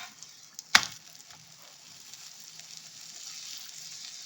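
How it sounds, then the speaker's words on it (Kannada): Onion paratha frying in oil on a pan over a medium flame, giving a steady soft sizzle with one sharp brief clatter near the start, no voices. "ಚೆನ್ನಾಗಿ ಮೀಡಿಯಮ್ ಫ್ಲೇಮಲ್ಲಿಟ್ಟು ಸ್ವಲ್ಪ ಚೆನ್ನಾಗಿ ಫ್ರೈ ಮಾಡಬೇಕು"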